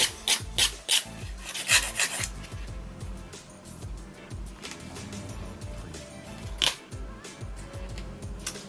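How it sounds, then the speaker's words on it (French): Nail file rasping back and forth over a cured top coat of nail polish, close and steady, with quick bursts of strokes at the start and a lighter, continuous scraping rhythm afterward. "Maintenant, je prends ma lime et je lime tout doucement."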